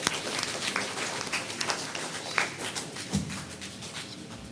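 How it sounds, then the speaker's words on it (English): Steady applause from an audience at a primary schools' quiz competition in Anguilla, a dense patter of clapping heard from a distance with no talk over it. "Let's give her a round of applause as she comes."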